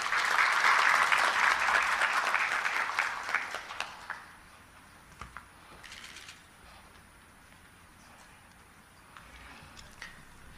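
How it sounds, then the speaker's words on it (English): Audience applause welcoming the Regional Commissioner for Arusha at a democracy stakeholders' conference opened by President Samia Suluhu Hassan, loud dense clapping for about four seconds, then fading to scattered claps and quiet room tone. "Could you help me welcome him with a round of applause?"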